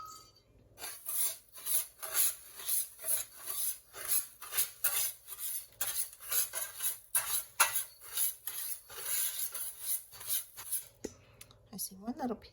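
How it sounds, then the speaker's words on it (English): A spoon stirs a small sauce in a bowl for air-fryer fried green tomatoes, producing a brisk, regular run of close scraping and clinking strokes, with a brief voice near the end. "So we'll stir that up."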